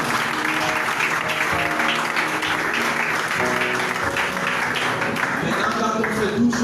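A church congregation applauding together, dense continuous clapping mixed with cheering and raised voices throughout.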